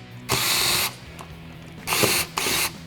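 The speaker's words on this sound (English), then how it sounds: "So this right here is our electric screwdriver, which we mainly use and recommend for those repairs where you're taking out a lot of screws" An electric screwdriver backs screws out of a device, whirring in two or three short bursts of about half a second each with quiet pauses between, close up and with no talking.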